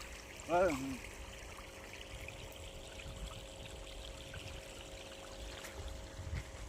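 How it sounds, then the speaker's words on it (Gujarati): Irrigation water flows through a channel in a crop field as a soft, steady rushing and trickling. A brief voice is heard near the start. "એક બાજુ પાણી આમ હાલે છે"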